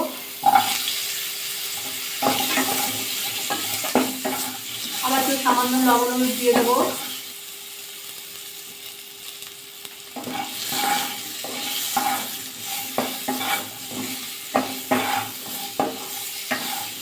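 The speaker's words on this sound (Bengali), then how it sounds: "এই তেলের মধ্যে আলু গাজর একসাথে ভাজা করে নেব।" Potatoes and carrots sizzle and hiss as they fry in oil in a pan while a spoon scrapes and stirs now and then; someone speaks over the frying.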